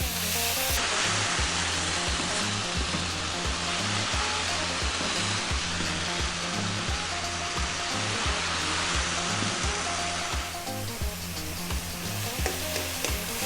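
Chicken fried rice with light soy, lemongrass, lime leaf and galangal stir-frying in one pan over high heat, a loud, steady sizzle with constant scraping and stirring throughout, no voices.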